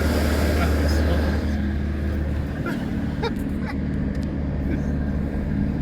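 A 2007 Nissan Navara with a power fault, its engine held at full throttle, gives a steady droning roar close by, while someone talks over it.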